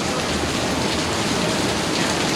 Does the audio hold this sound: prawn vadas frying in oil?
no